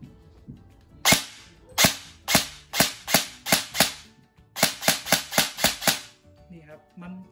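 MK18 MOD1 airsoft electric gun with blowback recoil fires single semi-auto shots, a loud, sharp, close series of snapping cracks in two quick bursts of evenly spaced shots with a brief pause between, then faint handling sounds.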